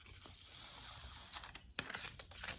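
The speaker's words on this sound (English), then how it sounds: "So you'll need your first piece of contact paper." Contact paper being peeled from its backing and handled for a nature sun catcher craft, a close crackling, tearing rustle with a sharper rip partway through.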